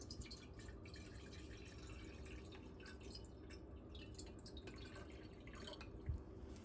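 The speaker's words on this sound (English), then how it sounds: "I'm going to pour this whole thing in here." Water from a 16-ounce bottle poured into a container while making an herbal latte: a soft, steady trickling wash with faint dripping, quiet and continuous.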